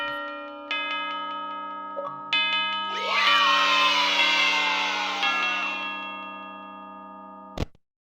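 A clock chime rings out as a night ends in an animatronics horror video game, bright layered tones with a cheering swell of sound in the middle, steady and loud over a droning background until it cuts off abruptly.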